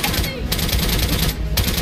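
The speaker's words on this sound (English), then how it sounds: "Every time I would pop my head out, I was getting assaulted by gunfire." Rapid bursts of machine-gun and rifle fire in a World War II shooter video game rattle densely and loudly throughout, with brief gaps between volleys.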